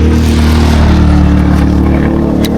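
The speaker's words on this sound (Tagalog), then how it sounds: "Kaso lang may dumadaan ng mga sasakyan." Vehicles pass on a windy road with a loud, steady engine roar close to the microphone. It stays continuous, with a brief sharp click near the end and no speech.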